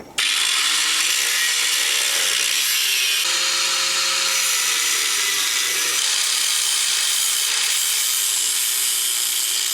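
A power tool cuts metal pieces for a strut tower modification on a Ford Maverick, a loud, continuous grinding whine with a slowly shifting pitch, running close and alone for the whole stretch.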